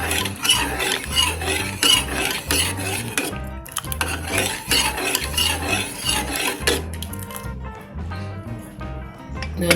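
Cooked dal for radish sambar mashed and stirred in a metal pot, with a steady rhythmic scraping and clinking of a ladle against the pot in repeated strokes, close up, with brief pauses between bursts.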